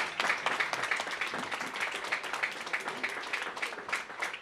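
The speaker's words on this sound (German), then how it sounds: "kann man ruhig mal klatschen" An audience applauds at a live football club talk event, with dense, steady clapping from many hands continuing throughout, moderately distant and even in level.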